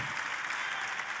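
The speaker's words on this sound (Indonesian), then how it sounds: "Boleh saya dengar tepuk tangan yang paling meriah dari tempat ini?" Sustained audience applause at a church sermon, steady and dense throughout with no break, the clapping filling the room.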